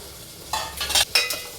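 Pulav cooking in a pan as green peas and boiled potatoes are stirred in, with a few short bursts of scraping and sizzling, close and moderately loud, separated by brief pauses.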